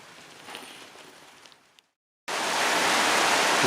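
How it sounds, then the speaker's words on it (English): Steady heavy rain falling outdoors at a building site, a dense continuous hiss that cuts in loud and close after a brief silence, following quieter ambient noise. "I've tried to wait until the rain eased a bit, but it's just come back on"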